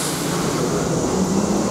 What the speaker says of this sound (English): The train leave.